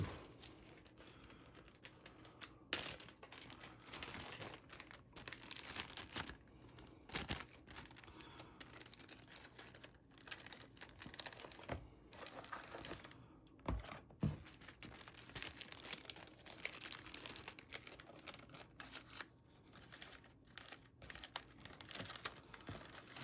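Plastic Ziploc bags set over eggplant seedlings as little domes, giving intermittent soft crinkles and rustles with scattered sharper crackles, close and quiet over a long stretch.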